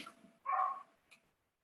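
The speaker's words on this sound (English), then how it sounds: "my dog's barking" A single short dog bark nearby, followed by a faint brief yip, then quiet.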